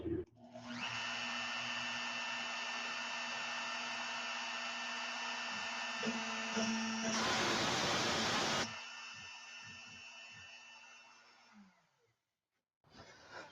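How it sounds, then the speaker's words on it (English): A Longmill CNC router fitted with a fine carving bit spins up and whines steadily with a high tonal hum, a loud hissing burst midway, then winds down to silence before a brief restart. "I'm going to go ahead and flip the router on"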